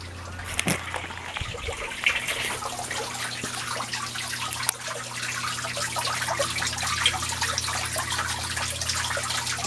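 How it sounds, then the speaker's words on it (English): Water from an aquaponics pump trickles and splashes steadily over plant roots in a garden bed fed by turtle tank water, a continuous close wash of watery spatter with a low hum beneath. "there's a pump that brings the water up here and feeds these roots"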